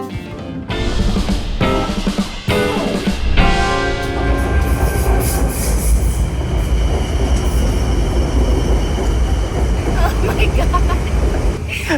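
Elevated BTS Skytrain in Bangkok rumbling and clattering along the tracks up close, with wheel squeals and a steady mechanical roar, voices faintly under it.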